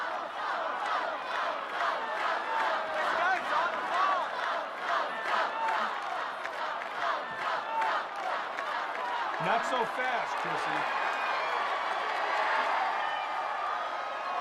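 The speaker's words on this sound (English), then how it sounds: "Listen to that crowd." A tennis crowd at Wimbledon cheers and shouts loudly and continuously in a dense roar of voices, with someone speaking briefly over the noise.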